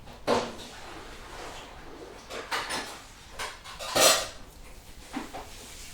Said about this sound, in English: So I'm just stirring it here, making sure it's melted.